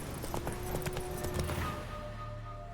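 Horse hooves clip-clopping in The Witcher 3, a rhythmic run of soft steps over steady game ambience and humming tones, fading as the horse slows.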